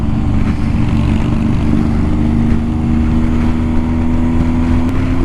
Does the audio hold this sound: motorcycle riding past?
yes